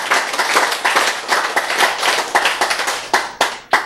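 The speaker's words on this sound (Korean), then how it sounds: "박수" A congregation claps during a sermon, a fairly close patter of hands that is uneven at first, then thins into a few separate, distinct claps near the end.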